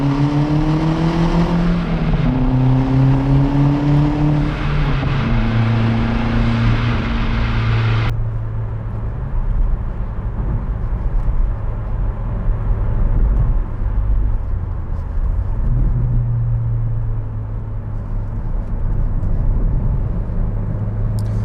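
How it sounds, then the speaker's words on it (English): An MK1 Ford Focus RS is driven on a public road. The engine rises through several revving pulls with gear changes, then settles into a steady, muffled cruising drone with road noise, heard from inside the car. "Let's have a nice drive in this Focus now."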